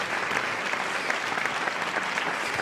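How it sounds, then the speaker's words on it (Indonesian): Applause celebrating an education program launch at a press conference, steady clapping of a modest crowd lasting throughout, moderately quiet with no speech over it. "Mari kita berikan tepuk tangan yang meriah atau virtual applause untuk program Learning for Life"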